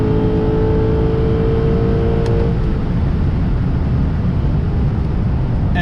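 A Lexus RC F with about 100,000 miles pulls hard under acceleration, a loud, steady engine drone with rising harmonics early on, then a broad wind-and-road roar, with no talking.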